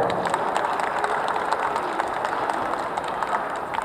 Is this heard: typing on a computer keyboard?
no